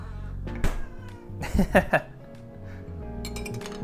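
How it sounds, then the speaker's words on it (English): A cat meows for attention in a home kitchen during cooking, with a few short meows and sharp clinks of glass or dishes close by, over faint room noise and some talking. "Cat is asking for attention."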